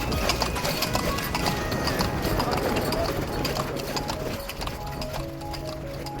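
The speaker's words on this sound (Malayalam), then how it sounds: "ഈ കുതിരയുടെ പേരെന്താ? രാജ." A horse's hooves clip-clop in a quick, steady rhythm close by on a summer trip to Nelliyampathy, with people talking over the hoofbeats.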